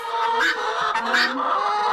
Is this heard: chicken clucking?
yes